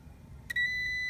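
A multimeter on continuity mode gives a steady electronic beep while testing a car fuse's terminals, starting sharply after a faint click and holding loud and constant to the end, with no talking.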